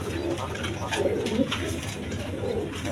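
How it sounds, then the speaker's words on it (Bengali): Pigeons coo softly and repeatedly over a steady background hum, with faint chirps mixed in. "ভালো জাতের কবুতর"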